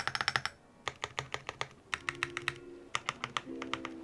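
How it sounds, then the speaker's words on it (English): Typing on a Chaosera Cupid 65 mechanical keyboard, heard close up as rapid, crisp keystroke clicks in uneven bursts, with a few sharper spacebar strokes among them. "if you listen to my spacebar, it's a lot more sharper sounding than the rest of my keys"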